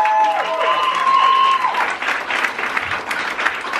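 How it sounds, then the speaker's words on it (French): An audience at a children's book fair in Montreuil gives sustained, lively applause, with a high whistle-like tone sounding over the start before the claps continue at full strength. "on peut applaudir tous ces gens qui ont donné pour la cagnotte à les blogueurs."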